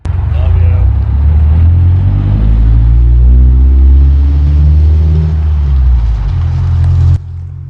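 A car pulls away from a house with a deep engine rumble that rises and swells for several seconds, holding steady and close before cutting off abruptly near the end.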